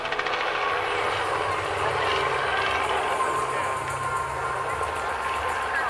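A helicopter flies at the Świdnik air show, its steady, loud rotor and engine roar continuing throughout.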